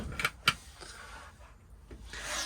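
A wooden drawer in a Swift Select 184 motorhome slides open with a couple of quick knocks and a soft rubbing scrape, close by and quiet.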